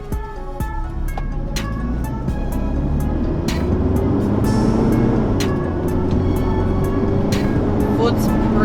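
A Toyota Hilux SR5 TRD accelerates from 0 to 80 at full throttle, its engine droning loud and steady with a slowly rising tone inside the cab, sharp ticks scattered throughout and a voice talking over it.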